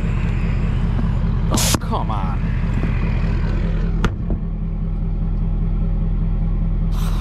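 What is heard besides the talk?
2017-2019 Super Duty truck engine working hard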